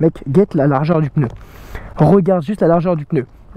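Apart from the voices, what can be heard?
None of the usual background noises is heard.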